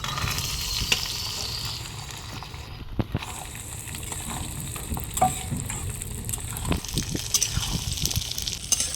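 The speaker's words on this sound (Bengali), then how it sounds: "লঙ্কাটা ভাজা ভাজা হতে থাকুক বন্ধুরা" Sliced green chilies sizzle and fry steadily in hot oil with panch phoron and black cumin seeds, a continuous crackling hiss dotted with sharp pops and occasional stirring scrapes, close and alone.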